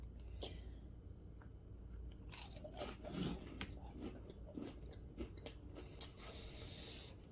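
Biting into a cracker topped with cheesy taco hamburger skillet pasta, heard as close, quiet crunches and chewing with a few sharper bites in the middle, alone over faint room noise.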